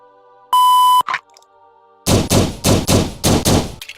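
In a PractisimVR shooting range game, a sharp electronic start beep sounds, then after a pause six loud, rapid gunshots crack in quick succession, close and alone.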